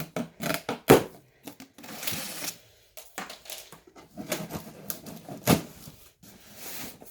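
A cardboard parcel box of ordered cosmetics being opened close up: bursts of tearing tape, crinkling packing and rustling cardboard with thumps and handling noises, loud in irregular clusters with short pauses between them.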